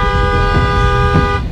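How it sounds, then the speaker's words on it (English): A tour bus horn honks in one long, steady blast that runs loud and close for nearly the whole moment, with a faint engine rumble underneath. "Honk."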